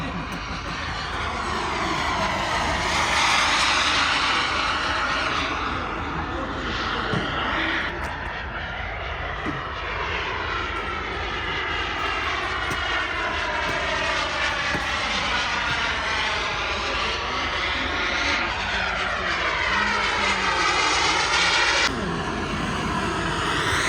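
A radio-controlled model airplane takes off at a club field in Whiteman Park, Perth, with a loud, buzzing engine whine that keeps shifting in pitch as it climbs and passes close by.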